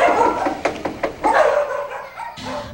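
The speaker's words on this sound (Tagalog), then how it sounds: "Maliban sa tahol ng mga aso" Several dogs bark outside a house, sharp repeated yaps and a few whimpers at moderate distance, the barks coming in uneven bursts.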